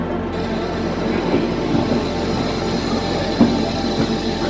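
Saraighat Express pulling out of its station on the Guwahati to Howrah run, a steady low rumble of rolling railcars with faint wheel clatter and occasional clanks, continuous and fairly close.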